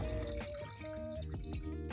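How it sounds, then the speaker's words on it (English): Tap water runs steadily while a fresh bamboo shoot is washed to remove sand, a continuous near trickle and splash heard under soft tonal background music. "I wash it to remove sand with tap water."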